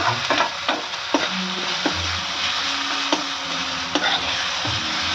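Green chilli prawns with onion are stirred in a frying pan, a steady close sizzle broken by repeated scraping and knocking strokes of a spoon against the pan.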